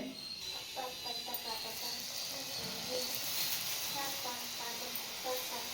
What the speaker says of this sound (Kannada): ಚಕ್ಲಿ ಹೊತ್ಕೊಂಡು ಈಗ ಒಂದೊಂದೇ ಎಣ್ಣೆಗೆ ಹಾಕ್ಕೊಳ್ಳೋಣ ಎಣ್ಣೆ ಕಾಯ್ತಾ ಇದೆ